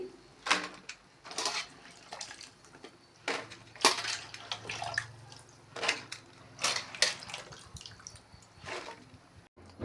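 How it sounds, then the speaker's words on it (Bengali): Cut taro pieces are washed in water for a curry, giving repeated splashes and sloshing bursts with drips between them, close and fairly loud throughout. "এখন ধুয়ে নিচ্ছি ভালোভাবে জল দিয়ে"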